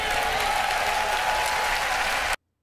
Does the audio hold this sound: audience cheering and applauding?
yes